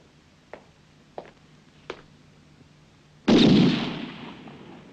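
A firing squad opens fire after a few faint, sharp clicks of rifles readying, then one loud blast that trails off into a long rolling echo, in a World War I setting.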